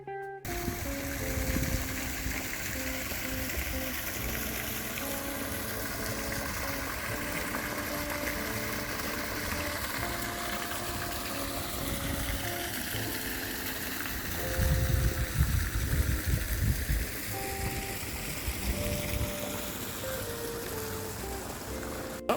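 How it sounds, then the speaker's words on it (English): A small waterfall at Heights of Abraham in Matlock Bath, a continuous soft rushing and trickling of water that carries on steadily throughout, with no talk. "Absolutely stunning little waterfall just here, really sets the scene."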